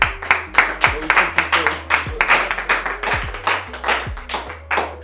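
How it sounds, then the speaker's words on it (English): A small group claps for trivia winners at a Winter Sports Trivia Battle, a loose patter of close hand claps with irregular, uneven rhythm and a few louder slaps, no talk over it. "Round of applause, please."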